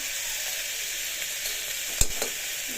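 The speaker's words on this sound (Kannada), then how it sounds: "ಶುಂಠಿ ಬೆಳ್ಳುಳ್ಳಿ ಪೇಸ್ಟು ಹಾಕಿದ್ದೀನಿ ಸೊ ಇದನ್ನು ನಾನು ಚೆನ್ನಾಗಿ ಫ್ರೈ ಮಾಡ್ಕೊತೀನಿ" Ginger garlic paste fries in a pan with a steady, close hiss and sizzle, broken near the end by a couple of sharp scraping stirs.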